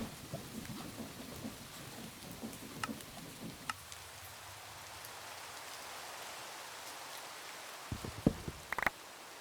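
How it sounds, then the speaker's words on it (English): Rain and rolling thunder play in a modded Minecraft world, steady rain hiss under several sharp thunder cracks and rumbles, the strongest near the start and a couple more at the end, with no voices. "Why is it always raining?"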